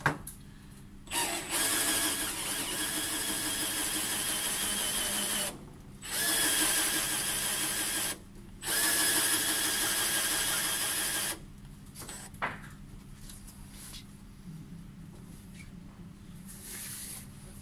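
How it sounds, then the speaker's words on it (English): A power drill whirs through metal in several bursts with short pauses between them, then stops, leaving a quieter mechanical hum and a couple of faint clicks. "This drill keeps stopping."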